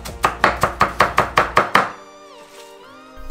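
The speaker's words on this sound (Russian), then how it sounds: "А пока мелко крошим зеленый лук." A knife chops green onions finely on a board in a quick, even run of about ten crisp taps, close and loud, then falls quiet with faint kitchen noise.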